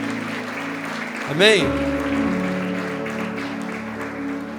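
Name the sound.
church congregation applauding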